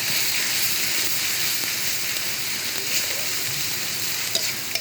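Chopped onions frying in oil with a little salt in a pan for an egg curry, a steady close sizzle with faint crackles and a few small pops toward the end, no talking.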